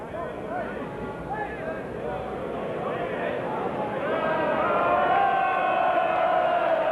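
Spectators at a 1986 Waterloo bowls last-eight match murmur and react, a continuous crowd hubbub of chatter and low exclamations that swells louder toward the end, with a commentator's voice over it.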